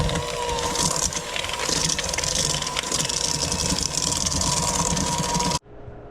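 A new kitchen mixer runs with a steady, fairly quiet whirring hum at close range, continuous for several seconds and then switched off abruptly, no voices.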